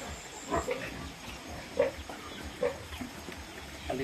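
Pigs on a small church farm in Dawis, Negros Oriental, giving a few short grunts and squeals at irregular intervals over steady low farmyard background noise.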